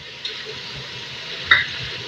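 Green chillies going into mutton frying in a karahi, a steady close sizzle with a brief clatter and splash as they drop in.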